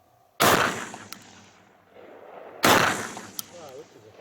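Two loud shotgun blasts fired on a range with a Sightmark Ultra Shot reflex sight, about two seconds apart, each a sharp crack with a booming decay that echoes outdoors, close to the microphone.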